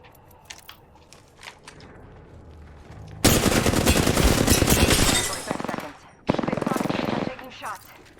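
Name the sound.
gunfire in a video game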